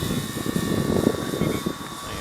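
Avios Twin Otter twin-engine RC STOL plane making a slow, low flyby with full flaps, its steady propeller drone holding loud and constant across the pass.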